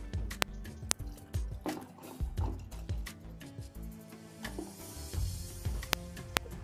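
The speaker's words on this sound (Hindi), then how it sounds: "इसमें भी हम पानी को घोल कर ये देखिए जार में डाल लेंगे" Sugar water poured into a jar for making fruit wine, close liquid splashing and dripping with scattered clinks and knocks, no voices over it.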